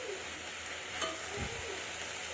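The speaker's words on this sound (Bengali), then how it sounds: "পেঁয়াজ, শুকনো লঙ্কার 5 ফোড়ন দিয়ে কড়ার মধ্যে নাড়াচাড়া করা হচ্ছে।" Water spinach frying in a wok with onion and dried chilli, stirred now and then, giving a steady low sizzle with a soft scrape or two of the spoon.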